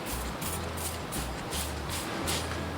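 Lawn weed killer is sprayed onto dandelions in bursts, a series of close hissing pulses of roughly equal length separated by brief pauses, with no talk.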